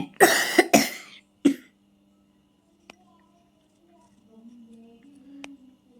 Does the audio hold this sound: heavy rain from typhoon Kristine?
no